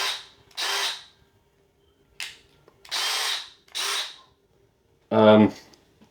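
A DeWalt DCD778 18V brushless combi drill is triggered in short bursts, first at a lower speed and then at a faster one, each burst a close, loud whir. Between bursts there is silence, and a brief voice comes near the end.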